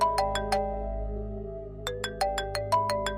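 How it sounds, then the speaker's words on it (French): A mobile phone ringtone plays a bright repeating electronic melody of quick plucked notes, loud and close, with a short pause between two phrases. "Votre téléphone sonne."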